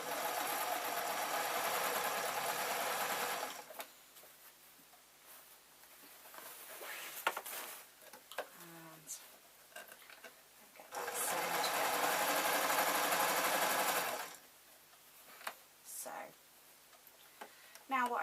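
A sewing machine stitching the shoulder seam of an artist's smock, running in two sustained bursts of steady rapid whirring, with quieter stretches between where clicks, handling noises and faint talk are heard.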